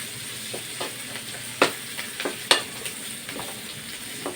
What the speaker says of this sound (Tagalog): So, kukulahin lang natin ang sibuyas at bawang.